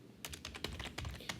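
A short run of computer keyboard typing while entering a SQL query, rapid close key taps in an even stream over a steady low room hum.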